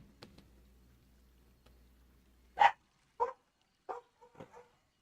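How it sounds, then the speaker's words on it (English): A neighbor's dog barking outdoors, a handful of separate woofs at a moderate distance over a quiet background. "Oh my gosh, the neighbors got their dog outside."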